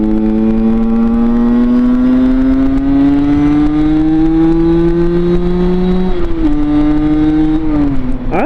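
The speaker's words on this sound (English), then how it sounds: "I really have to like hit the throttle down a lot just for me to rev match." A Derbi Senda 50cc motorcycle engine revs in a long, loud, steady rise in pitch, then dips and climbs again briefly near the end, with no pauses.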